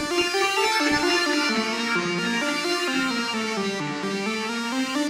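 A synth lead from the Morphine plugin plays a melodic line whose bright harmonic tones glide smoothly between pitches, loud and sustained with no talking over it.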